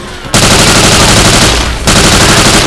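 Loud, continuous automatic gunfire from the Left 4 Dead 2 video game, two long bursts of rapid rattling shots close up, briefly broken by a short gap.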